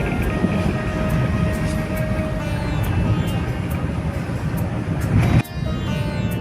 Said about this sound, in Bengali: ট্রেন যাচ্ছে নিচে দিয়ে